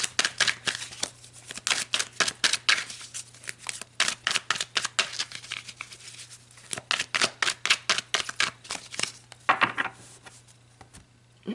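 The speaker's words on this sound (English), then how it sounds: "let's pull some more cards and just go a little bit further" Tarot cards shuffled and drawn from a deck, a long run of crisp riffling flicks and snaps in quick irregular bursts, close and clear against a faint steady hum.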